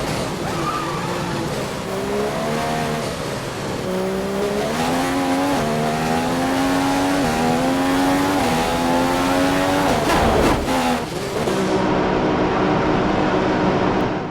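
In a racing video game set in Japan, a race car engine climbs through the gears with rising whines and shifts. Tires squeal briefly in a corner before the engine note settles and drops.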